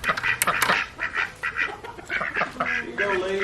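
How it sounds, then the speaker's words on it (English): Ducks quack repeatedly around a farmyard with other animals, the calls close and overlapping, with some background voices mixed in. "Look out, ducks."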